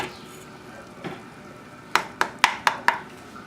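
A roux for espagnole brown sauce is stirred and cooked in a pan, with soft scraping and a faint sizzle followed by five sharp, evenly spaced taps of the utensil against the pan.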